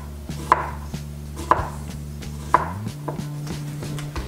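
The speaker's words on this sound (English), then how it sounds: "So for the onion, we're just gonna go ahead and slice that." Onion sliced with a knife on a cutting board for pickled jalapenos and carrots: three distinct, evenly spaced chops stand out, followed by several lighter taps, close and clear against a steady low background hum.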